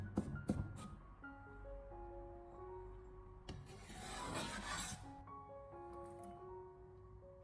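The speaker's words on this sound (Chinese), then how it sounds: "先将它改刀切成蒜片，最后再将它稍微的切一下，把它改刀切小，切成蒜末" A kitchen knife works through garlic cloves on a cutting board, slicing and then mincing them fine. The scraping and rasping strokes are close and fairly quiet, with no talking and only a few sharp taps.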